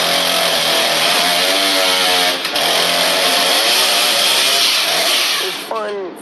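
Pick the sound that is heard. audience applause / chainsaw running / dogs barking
chainsaw running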